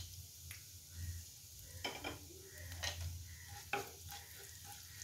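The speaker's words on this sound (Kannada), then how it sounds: "ಎಣ್ಣೆ ಬಿಸಿಯಾದಾಗೆ ಜೀರಿಗೆ ಹಾಕಿ" Cumin seeds dropped into hot refined oil in a pan, a soft background sizzle with a few sharp crackles and utensil clicks up close, no talk.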